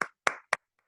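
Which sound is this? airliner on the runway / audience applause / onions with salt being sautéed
audience applause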